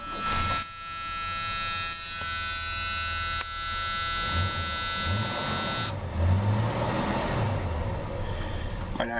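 A car engine idles at about 500 rpm just after a cold start, giving a steady, close droning hum with a buzzy tonal edge that holds throughout without revving.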